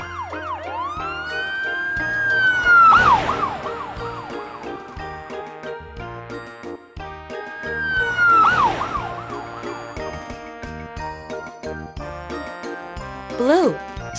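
An electronic police siren wails up and falls away twice, each sweep ending in a tinkling burst of chimes and bright tones.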